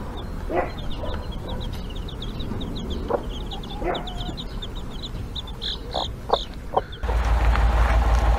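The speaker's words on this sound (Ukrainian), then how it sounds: "12 в мене курчаток, 4 біленьких" Chickens and chicks cluck and call in a backyard flock, with scattered short clucks near and far. A louder rush of noise closes out the final second.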